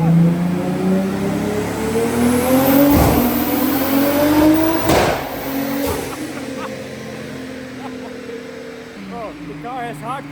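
A boosted single-turbo 2JZ engine in a Toyota Supra revs hard and loud up close, pitch rising and falling through several pulls, with pops and crackles as it winds down.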